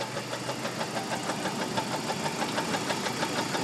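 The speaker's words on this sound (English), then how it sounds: "I've got this knocking coming from my engine." Four-cylinder engine of a 1998 Jeep Wrangler TJ running with a steady, rapid knocking tick, close and fairly quiet, repeating evenly throughout with no talking.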